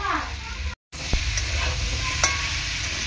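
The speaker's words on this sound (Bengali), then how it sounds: "তো সব মশলাগুলো দিয়ে ভালো করে নাড়াচাড়া করে নেবো" Vegetables such as pumpkin, potato and pointed gourd for labra being stirred in a pan with cumin powder and spices, giving a close, continuous sizzle with scraping strokes, broken by a brief moment of silence.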